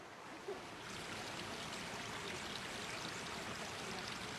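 Cold spring water flows steadily through a wasabi field in Izu, a continuous soft rushing and trickling that stays even and fairly faint throughout, with no voices.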